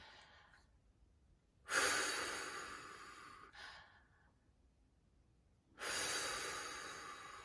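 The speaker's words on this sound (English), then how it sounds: "we're going to do a big breath in and then blow out" A long deep inhale, then a drawn-out exhale and another breath in and out, near and clear during a singing warm-up, with quiet pauses between breaths.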